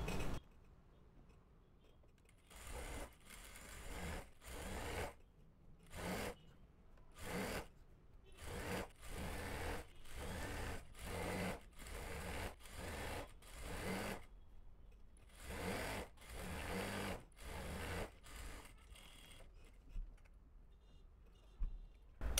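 Sewing machine stitching a line through elastic on a ladies' pant, running in repeated bursts with short pauses between, close and fairly loud with no talking.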